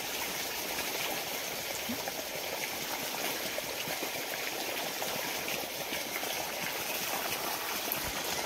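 Irrigation water flows steadily across a farm field prepared for onion planting, a continuous soft hissing and gurgling rush that stays even and fairly faint throughout, with no voices.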